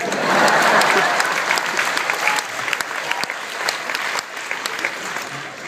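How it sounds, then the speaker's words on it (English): Loud, dense applause from a graduation ceremony audience, steady clapping that tapers slightly toward the end. "No, clap for that."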